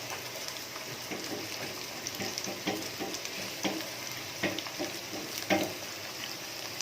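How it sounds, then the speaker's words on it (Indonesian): Sliced shallots sizzle and crackle steadily in a hot pan over high heat, with occasional stirring scrapes punctuating the continuous fry; no talking. "kita goreng aja sampai harum, sampai warnanya agak kecoklatan guys"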